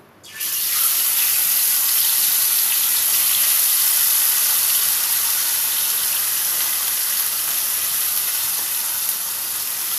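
Small fish sizzle steadily in hot oil seasoned with salt and turmeric while being fried for choto macher jhal. A loud, even hiss starts abruptly and continues without pause, with no talking.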